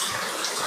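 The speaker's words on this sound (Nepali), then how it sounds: "झर्ना हेरौँ न झर्ना" Rushing water from a waterfall pours in a constant broadband roar, loud and unbroken for the brief moment.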